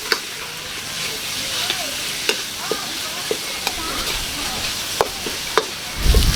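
Sliced pork hits hot oil with onion and garlic in a pan, giving a steady close sizzle with scattered sharp clicks of a utensil stirring, and a louder burst of frying near the end.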